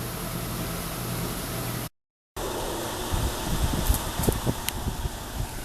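Outdoor air conditioner unit with its fan running, a steady whooshing hum with a brief dropout partway through and some soft rustling and knocks near the end.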